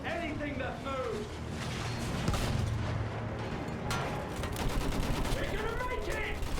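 Rapid, dense gunfire from a Battlefield 1 battle rattles on without pause, with overlapping bursts and distant booms, while soldiers' voices shout over the din.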